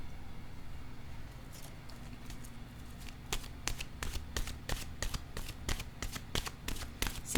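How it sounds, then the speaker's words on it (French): An oracle card deck is handled, starting with soft rustling and then turning into a rapid, close series of crisp card flicks, like riffling while a card is drawn. "je vais piger maintenant une carte de mon oracle de l'âme intuitive"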